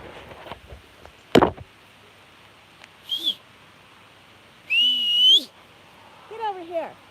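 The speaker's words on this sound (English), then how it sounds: "I need to whistle." A person whistles outdoors in rural South Dakota to call a cat, giving several short separate whistles, some rising or falling in pitch, after a sharp knock-like sound, with quiet background.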